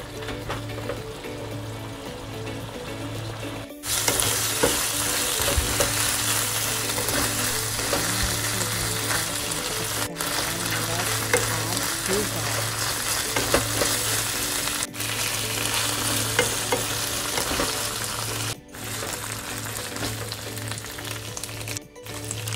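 A sauce with sake, Japanese rice wine, bubbles and sizzles steadily in a pan for tantanmen ramen, making continuous frying hiss with soft bubbling and brief handling noises in between.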